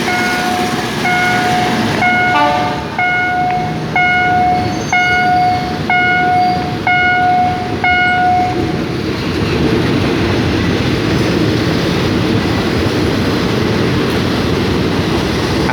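Ordinary train 255 approaches the road level crossing on Charan Sanitwong Road. A series of loud horn blasts sounds over a heavy rumble, then the steady roar of the passing train carries on alone.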